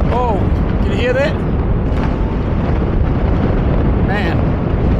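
New Year's Eve fireworks in Sydney boom and crackle continuously through a loud, wind-buffeted crowd wash, with brief whistling streaks rising over the din.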